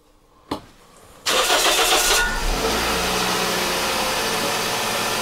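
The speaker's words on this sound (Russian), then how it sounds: "Итак, заводим наш автомобиль." A Toyota car engine starts: a faint click, then a whirring starter crank for about a second before the motor catches with a loud rev and settles into a steady idle, close up.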